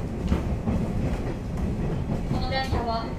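A JR West train rolls steadily along the rails near Kyoto with a low rumble and rhythmic clatter, heard from inside, with a short squeal near the end.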